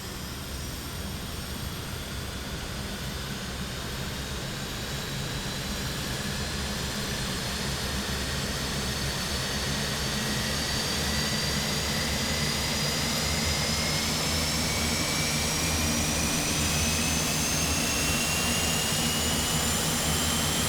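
Engines 1 and 2 of an Airbus propeller airliner spool up in Microsoft Flight Simulator, a loud, steady turbine whine with rising tones and a deep rumbling drone that holds throughout, no voices.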